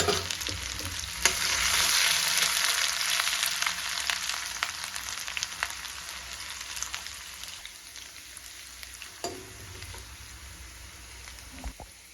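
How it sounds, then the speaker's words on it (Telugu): Ginger, garlic and curry leaves crackle and sizzle in hot oil, a dense close frying hiss with scattered sharp pops and brief stirring scrapes that eases slightly toward the end. "ఇప్పుడు ఇందులో అల్లము, ఎల్లిపాయలు ఆయిల్లో వేసేసి కరివేపాకు వేసేసుకొని"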